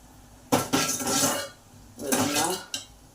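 Four or five dried red chillies sautéing in a pan: two bursts of sizzling crackle with a clink of a metal utensil against the pan, separated by a short lull.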